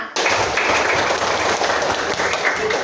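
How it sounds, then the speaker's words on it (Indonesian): A group clapping together in a steady counted rhythm, dense overlapping hand claps filling the space continuously and fairly loud, with no voices standing out. "Tepuk 1. Tepuk 2. Tepuk 3. Tepuk 4. Tepuk 5."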